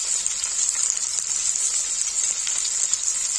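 Dense, steady sizzle of vegetables frying in a pan for a Kashmiri lotus stem and spinach dish, a bright continuous hiss close up with faint stirring scrapes, no voices.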